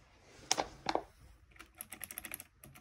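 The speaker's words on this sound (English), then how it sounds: "We got a keyboard." Keys clack on a mechanical computer keyboard in short bursts: a few separate presses first, then a quicker run of typing, close and clear, with no voices.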